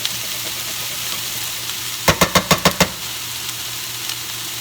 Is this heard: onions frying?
yes